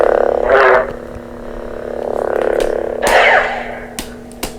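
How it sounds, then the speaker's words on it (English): Toy lightsaber from Savi's Workshop with a blue crystal, igniting in rising swooshes and humming with a steady electronic drone, plus sharp clash bursts near the end; no talking. "Turning it on so you can see it, you can hear it."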